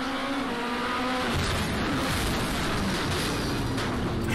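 Race cars in a sim racing game roar at full throttle, their engines dense and continuous, with a tire squeal and a harsh rumbling crash that takes over partway through, loud from start to finish.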